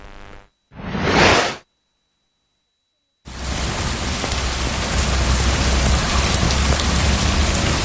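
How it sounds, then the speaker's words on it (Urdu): Heavy rain pours down in Karachi, a dense, loud, steady hiss that starts after a couple of brief bursts and a silent gap, then continues unbroken. "کراچی میں پھر بادل برسنے لگے"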